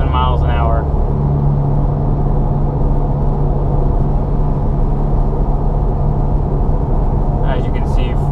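A VW MK7 fitted with a center exit exhaust cruises on the highway in sixth gear at around 67 mph, giving a steady, even low engine and road drone heard from inside the cabin, with brief voice-like bursts at the start and end.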